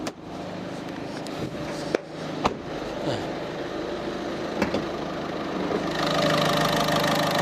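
A used diesel car engine idles with a steady low rumble and faint knocking texture, broken by a few sharp clicks or taps.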